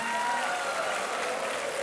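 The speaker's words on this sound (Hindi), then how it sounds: "तालियों के साथ हम आपका अभिनंदन करते हैं" Steady applause from a studio audience fills the space for a winning contestant on the Hindi quiz show Kaun Banega Crorepati, even and sustained with no talk over it.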